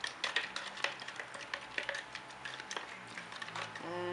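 Shampoo and half a cup of cold water are stirred in a container for cleaning makeup brushes, giving close, light clinks and tapping clicks in an irregular rhythm, with a brief faint tone near the end.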